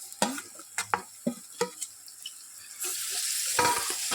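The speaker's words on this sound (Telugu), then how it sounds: "ఒక 7-8 నిమిషాల వరకు ఇది నూనెలనే ఫ్రై కావాలి ఈ చికెన్" Chicken is stirred into hot oil with browned onions. A spatula scrapes and taps the pan several times, then a steady sizzle of frying rises and continues.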